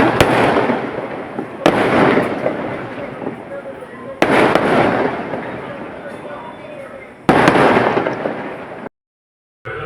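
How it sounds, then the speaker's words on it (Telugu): Firecrackers set off outdoors give a string of loud sharp bangs every couple of seconds. Each bang fades into a sustained fizzing crackle, and the sound cuts out briefly near the end. "ఎందుకు క్రాకర్స్ కాల్చుతున్నారో మరి అక్కడ"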